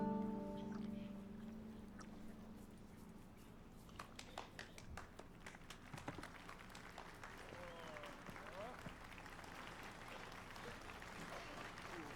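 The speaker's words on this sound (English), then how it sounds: "Standing ovation." Crowd applause rising at a tavern performance in Witcher 3 after a woman's song, scattered claps building into a steady, dense ovation that carries on with light murmuring.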